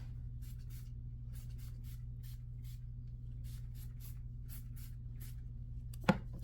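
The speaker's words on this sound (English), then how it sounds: "I'm gonna do my leave-in spray" Faint, repeated short hissing bursts of leave-in hair spray in an uneven rhythm over a low steady hum, ending with a sharp click.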